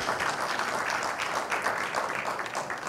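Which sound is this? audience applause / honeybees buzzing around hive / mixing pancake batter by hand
audience applause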